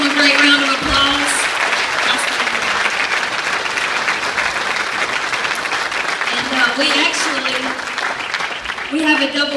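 Church congregation applauding graduates at a graduation service, continuous clapping with scattered cheers and voices calling out over it, fairly loud and steady throughout.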